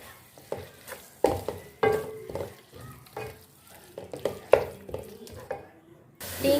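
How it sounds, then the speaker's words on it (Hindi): Chicken mince frying with spices in a pan for keema, a steady sizzle under repeated scraping and stirring strokes of a spoon, close and fairly quiet, ending with a louder rush of sizzling. "तीन 4 मिनट इसकी हम भुनाई कर लेंगे।"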